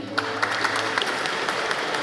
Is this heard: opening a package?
no